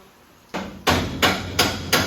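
Five sharp hammer blows strike at a steady, roughly even pace while working on a 1972 Dodge Challenger, each a loud, ringing impact that decays quickly, with no talking.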